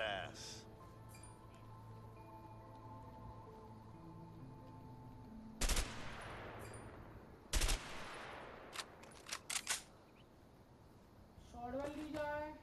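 In the A Way Out video game, two loud isolated gunshots crack several seconds apart, followed by a quick cluster of shorter shots, all over a quiet game soundtrack.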